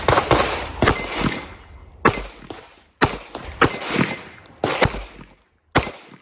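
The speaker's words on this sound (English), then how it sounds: "one thing about this gun and all 22 Magnum semi-autos, they are boomers" Hammer-fired .22 Magnum semi-automatic rifle shot at an outdoor range: about seven sharp, loud booming shots at an irregular pace, each with a short ringing decay, and no talk.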